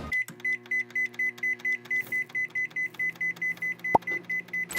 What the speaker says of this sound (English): We're gonna add our steak to the microwave.